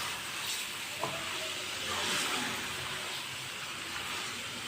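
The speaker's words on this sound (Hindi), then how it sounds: "अच्छी तरह भून लेंगे। इसे लाजमी 3 मिनट के लिए पकाना।" Chicken and potato pieces frying in a pan for a curry, a continuous soft sizzle and hiss with faint stirring, heard alone at moderate distance.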